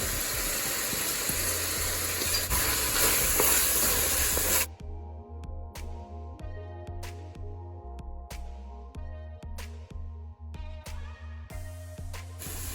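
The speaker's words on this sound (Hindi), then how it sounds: "अब हम इसमें ये अंडों का जो हमने कीमा बनाया था वो डाल देंगे। इसे अच्छे से मिक्स कर लेंगे।" Egg keema being stir-fried with masala in a pan: a loud hissing spray-like sizzle for several seconds, then an abrupt cut to quieter sound with rhythmic clicks and tonal background. No one speaks.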